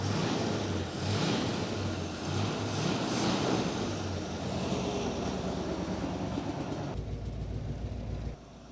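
A vintage hot rod's 265 V8 engine with a small two-barrel carburetor idling, a steady low rumble held close and even before it drops off abruptly near the end.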